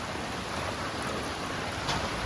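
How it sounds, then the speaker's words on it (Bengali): Steady monsoon rain falls continuously, a dense, even hiss with no pauses and no voices. "বৃষ্টি আর কমছে না।"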